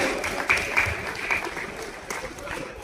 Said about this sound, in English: Can we have a huge round of applause for her,